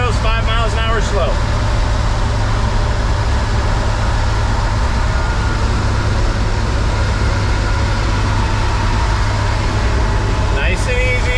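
Turbocharged International Harvester truck engine cruising at about 45 mph on light throttle, a loud continuous low drone with road rumble, and brief faint voice fragments at the start and end.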